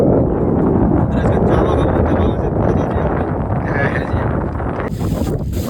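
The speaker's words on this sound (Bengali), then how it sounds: "হাওয়া হাওয়া" Strong sea wind buffeting the microphone in a constant roar, with a faint watery wash beneath and brief muffled voice sounds mixed in.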